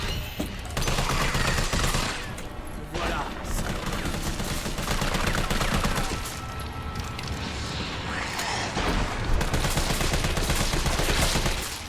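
Rapid, dense bursts of gunfire from the video game Resident Evil 3, loud and sustained across the whole stretch with only brief pauses, partly mixed with game effects.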